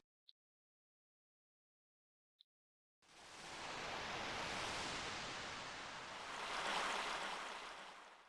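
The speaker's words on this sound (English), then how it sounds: "That's a very deadly looking sea." Sea waves from the video game Pokémon Mystery Dungeon: Explorers of Sky, heard as a soft rushing surf that fades in after two tiny clicks and near silence, then swells and recedes without any voices.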